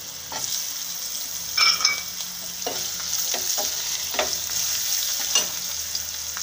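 Ginger fries in a pan with green chillies, garlic and cumin, a continuous close sizzle punctuated by repeated scraping stirs at an uneven rhythm, with no voices.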